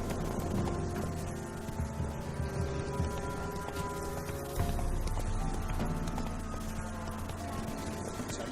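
Hooves of the horse Roach in The Witcher 3 clip-clop at a steady trot, a rhythmic clatter set against a continuous music and ambience bed.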